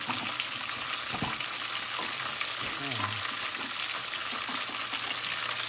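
Zinger chicken frying in hot oil crackles with a steady, dense sizzle throughout. A few stirring knocks and scrapes sit close in front of it, and no voices come through.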